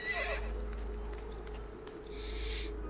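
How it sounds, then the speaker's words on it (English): A horse in Assassin's Creed 2 whinnies in a bright, shaky burst at the start and again near the end, with light clip-clop of hooves and a steady low hum running underneath. "A horse is a horse is a horse, of course."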